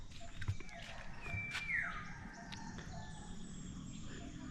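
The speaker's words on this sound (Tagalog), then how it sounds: "Daming ibon." Birds chirping outdoors in a quiet residential area beside a playground, with a few scattered calls and one clear whistled sweep over a soft, steady outdoor background.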